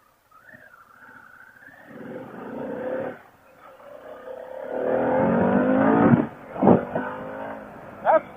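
Harley-Davidson Pan America motorcycle accelerating in road mode, engine note climbing through gear pulls with brief drops between shifts, loud and close with wind rush, no talking.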